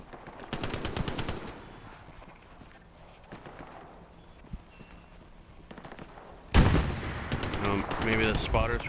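Rapid bursts of machine-gun fire rattle out early on, then quieter scattered shots follow, and a loud close burst erupts near the end during a World War II battle in Hell Let Loose, with a distant sniper somewhere to the north.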